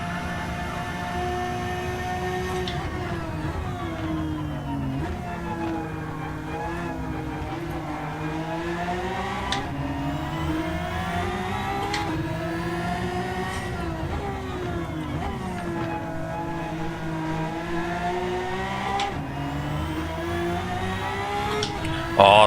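Race car engine in Gran Turismo 7, played in VR: a steady loud engine drone that rises and falls with shifting revs through a lap, continuous with no gaps.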